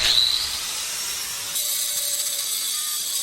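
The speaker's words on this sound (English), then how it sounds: "Once I realized I'm gonna use a cutoff wheel" A cutoff wheel slices into metal during teardown of a rubber-mount Harley Sportster chopper, a steady high hissing grind that shifts pitch partway through as the wheel bites differently, heard alone without voices.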